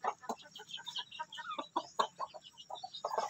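An Asil mother hen clucks steadily in a breeding pen, a close, busy run of short chattering clucks and soft calls that keeps going without a pause, with no talking.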